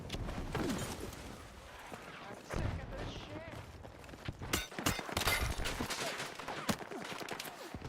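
Mortar impacts and bursts of gunfire ring out in a war video game set in winter, with loud sharp blasts and rattling shots around a player talking over them.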